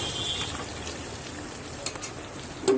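Meat and elephant foot yam being stirred into fried spices, with a steady soft sizzle throughout and a few brief scraping clinks of a spoon against the pan near the end.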